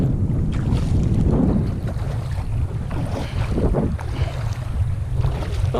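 Steady crosswind buffets the microphone while a Pungo 140 kayak is paddled on open water, a continuous loud low rumble of wind noise with faint water sloshing underneath and no talking.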